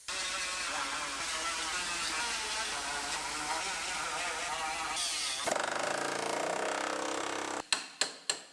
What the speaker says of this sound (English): we can trim out the rest of this B-pillar so we can put our outer panel on